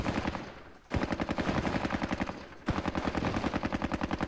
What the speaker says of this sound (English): So these guys will lay down suppression fire on the emplacement here.